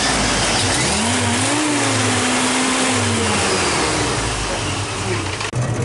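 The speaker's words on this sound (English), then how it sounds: "throw us a little rev" Jeep engine held at a steady loud roar with a rev that climbs and sags, close by and continuous, with a brief clunk near the end.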